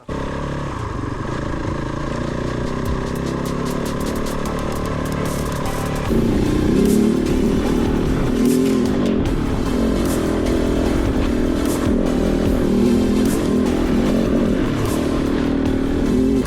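A Kove 450 Rallye motorcycle rides off-road in the Haute-Loire, its engine droning loud and steady, growing heavier partway through, with clattering from the rough, rocky ground.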